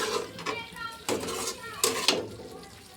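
Cauliflower stirred with half a glass of water in a pan for garlic masala gobi, a few clinks and scrapes of a spoon against the metal pan in close, brief bursts.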